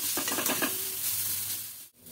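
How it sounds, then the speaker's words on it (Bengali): Grated carrot fries in a little oil in a pan while being stirred, giving a steady, close sizzle with scraping stirs in the first moments, then a softer continuous hiss. "প্রথমে গাজরটা দিয়ে একটু নাড়াচাড়া করে নেব।"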